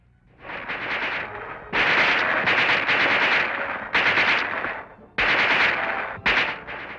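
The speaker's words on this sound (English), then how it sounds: "The submachine gun." Submachine gun fire from an infantry weapon in a military training film, loud close bursts of rapid automatic shots in several separate strings, with short pauses between them and no talking.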